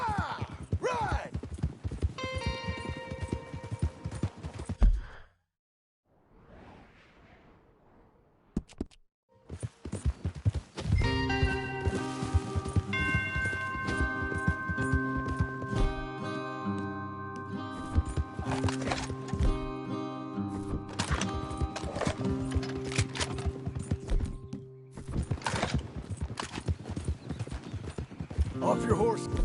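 Horses clip-clop and whinny in the Western video game Red Dead Redemption 2, with hoofbeats running steadily under game music, ambience and character dialogue, broken by a brief quiet gap early on.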